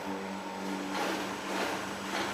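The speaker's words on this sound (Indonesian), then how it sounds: "Ini motornya normal loh, digas saja mau nih." The engine of a Honda Beat FI scooter runs steadily and then revs with a couple of rising swells, a constant close mechanical drone throughout the short stretch.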